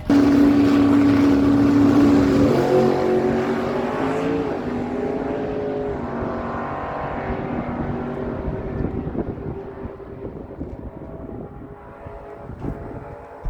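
A 1973 Mercury Comet GT and a 2000 Chevy Camaro launch side by side at a drag strip, their engines roaring loud and close at first, then fading steadily as the cars run down the track.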